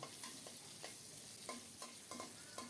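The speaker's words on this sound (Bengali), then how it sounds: "গোটা জিরা ফোড়নে দিয়ে আলুগুলো প্রথমে ভেজে নেব" Potatoes frying in oil with whole cumin seeds, a faint, even sizzle broken by regular scraping stirs roughly every half second, close but quiet.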